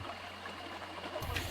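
Water trickles and flows steadily at the meeting point of a warm spring and a cold spring, a soft continuous stream close by with a low rumble underneath, turning slightly brighter and splashier near the end.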